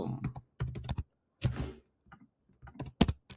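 Clattering keystrokes on a computer keyboard come in quick, close bursts with short gaps between them, and no voice is heard over the typing.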